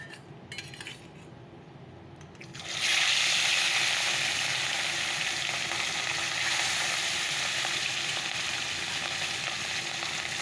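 Fish frying in oil in a wok, a quiet start giving way to a loud, steady sizzle once the fish goes in and holding continuously to the end, with faint clinks of utensils.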